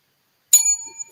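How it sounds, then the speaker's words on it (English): A plain old-fashioned bell gives one bright ring, struck sharply and then humming on in a fading, ringing tone for about half a second, heard alone with nothing else around it. "Now, I just got a plain bell."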